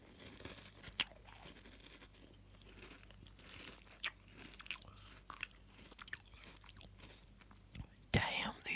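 Crunchy biscuits chewed close to the mic, with irregular crisp bites and crackles over soft whispered speech, a sharper burst of crunching near the end.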